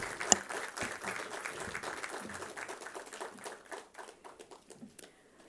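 An audience at a national defence dialogue forum applauds to welcome the chief guest. The clapping is fairly faint and scattered, then thins to sparse individual claps toward the end.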